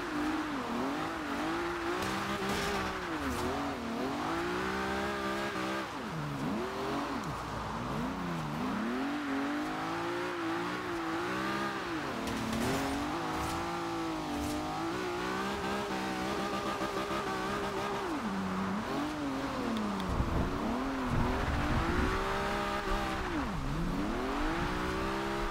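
A car drifts and spins out in Forza Horizon 2, its engine revving up and down in repeated swoops while tires squeal, loud and close throughout with no talk.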